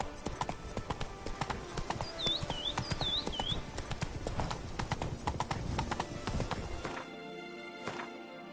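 Roach, the horse in The Witcher 3, gallops in a steady rapid clip-clop of hooves, close and fairly loud, with a brief whinny partway through. The hoofbeats slow near the end.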